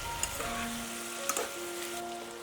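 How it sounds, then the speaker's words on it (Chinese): Shrimp stir-fried in a wok with liquor, sugar, soy sauce and sesame oil, a soft continuous sizzle with a couple of sharp scraping clacks as the pan is tossed, no voices. "抡起膀子翻炒均匀"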